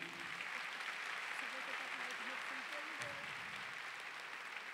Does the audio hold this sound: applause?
yes